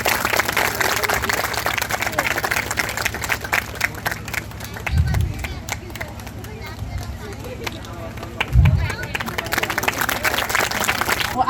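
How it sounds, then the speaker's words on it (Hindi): Children clap at an outdoor group gathering in Jhilrighat, Sauser Range, West Chhindwara. The applause is dense and steady, strongest early on, with a voice talking over it and a few low thumps. "जोरदार तालियां बजाएं।"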